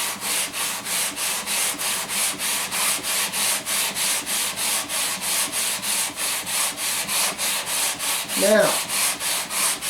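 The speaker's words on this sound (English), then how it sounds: "I'm using 120 grit sandpaper." A guitar neck is sanded with 120 grit sandpaper on a block in steady, even back-and-forth rasping strokes, close and continuous, with a brief voice breaking in near the end.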